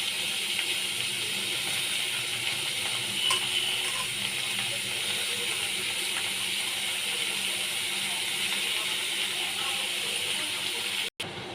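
Steady hiss and sizzle of bottle gourd frying in hot oil with black cumin and green chillies, continuous and close throughout with no talking.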